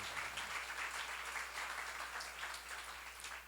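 A church congregation at a Korean seminar claps together in a faint, distant patter of many hands, steady and unbroken for a few seconds over a low hum.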